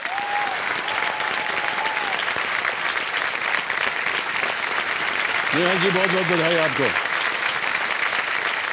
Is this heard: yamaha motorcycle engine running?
no